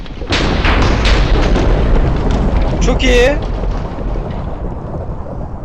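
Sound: lightning strike in a video game

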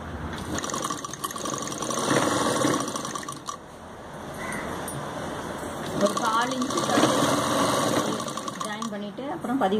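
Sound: sewing machine stitching kameez side pieces together

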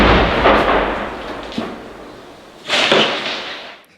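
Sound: separatist artillery shelling Donbas battalion positions in Shyrokyne

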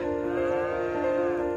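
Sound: cows mooing in Farming Simulator 25 trailer, video game

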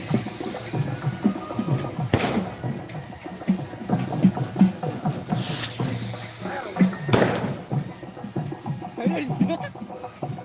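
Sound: firecrackers bursting at a village festival

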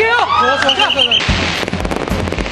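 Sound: fireworks opening a red carpet event

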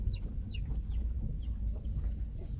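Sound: chicken clucking

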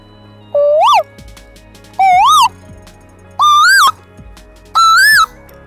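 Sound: person vocally imitating a cuckoo's call

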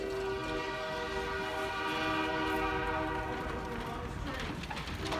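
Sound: train passing near a railroad

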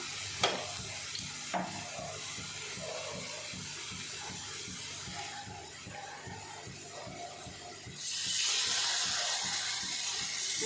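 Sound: fish frying in peanut oil on a stove

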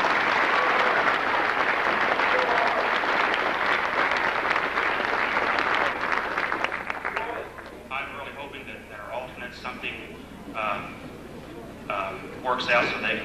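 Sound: applause

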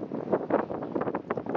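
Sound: strong gusty wind on boulevard

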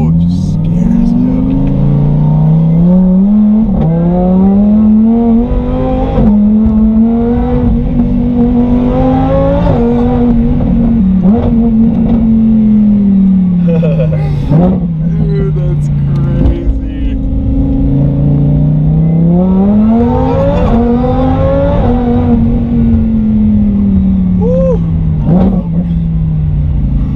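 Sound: 900HP supercharged Lamborghini accelerating

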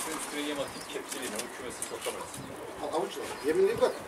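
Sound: pigeon cooing while feeding on the ground

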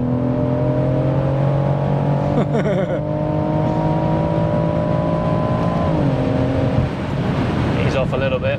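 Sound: tuned 730BHP BMW M140i accelerating hard in Sport Plus

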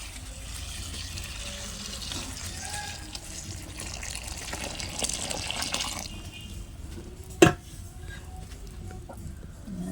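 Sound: water being poured

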